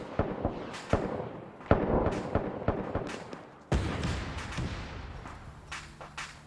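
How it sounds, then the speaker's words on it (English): Incoming artillery and gunfire in the WW2 shooter Arma 3, a series of sharp booms and cracks at irregular intervals, some near and loud, others more distant, over a rumbling battlefield. "sounds like artillery coming in"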